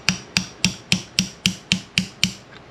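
Hammer tapping a Honda Goldwing front brake caliper to work it loose, nine evenly spaced sharp metallic knocks at close range, each ringing briefly before the next, with no talking.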